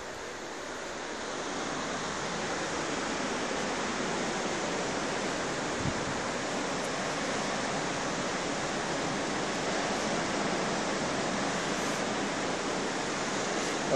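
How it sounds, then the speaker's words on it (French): Ocean waves break in a continuous, loud wash of surf heard alone at a tropical seaside manor, steady throughout with no distinct pauses between breakers. "On peut les entendre, les vagues."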